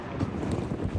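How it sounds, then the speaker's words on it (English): Wind buffets and rumbles hard across the microphone in a brief, continuous gust on a winter coast in Sweden, loud and close. "Oh, it's windy."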